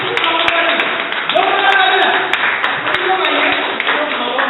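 An audience at a Modicare planning meeting applauds as two guests are welcomed onto the stage: steady clapping runs throughout, partly under an amplified voice speaking over it.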